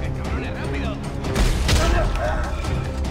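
Gunfire and booming impacts in the video game Dead Space 3 on PS3, a burst of loud shots and a heavy blast midway over a dense rumbling game soundtrack, with someone talking over it.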